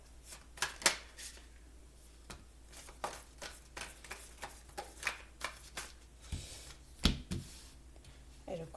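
A deck of tarot cards is shuffled by hand in repeated riffling bursts with soft snaps and slides, close and steady for several seconds, with no voices.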